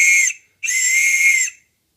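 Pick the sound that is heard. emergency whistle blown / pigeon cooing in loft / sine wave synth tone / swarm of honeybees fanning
emergency whistle blown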